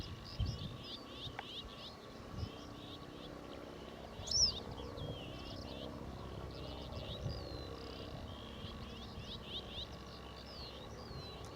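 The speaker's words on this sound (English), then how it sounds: "Reed bunting again." Reed bunting song outdoors in open grassy countryside: short, high chirping phrases repeat faintly and at a distance over a steady background hiss, with no voices.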